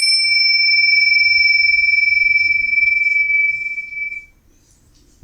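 A bell rung as a podcast intro, giving a bright, sustained metallic ring with a clear pure tone that holds steady, then fades away into near silence.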